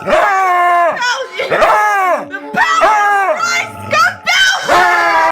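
A dog in a creepy TikTok video reacts with loud, close, drawn-out yelping and whining cries, repeated in several bursts with scarcely any pause between them.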